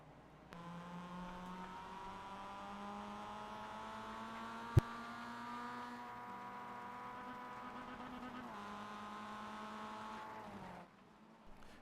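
Onboard engine of a Mazda race car at Daytona in iRacing, a steady high-revving drone held near and loud at speed, with a sharp click midway and a gear change and drop in revs near the end.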